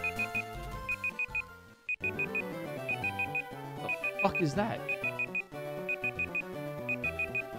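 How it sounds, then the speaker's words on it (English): A stream timer alarm sounds as a repeated electronic beeping in regular short bursts, fairly loud, running under music and a startled voice. "The timer on my other screen."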